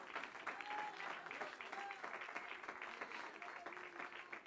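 A church congregation applauds in a steady wash of clapping that lasts throughout, with voices mixed in underneath.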